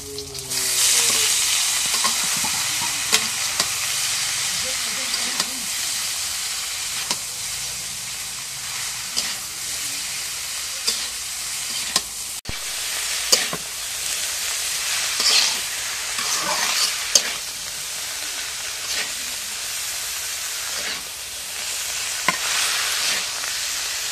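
Radish greens fry with chili in a pan, giving a loud, constant sizzle and hiss with occasional sharp clinks and scrapes of stirring throughout, close by and free of talk.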